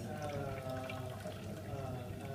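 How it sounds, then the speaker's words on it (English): Water pours steadily into a container, a continuous faint splashing stream that stays even from start to finish. "we will add more water to make the balance"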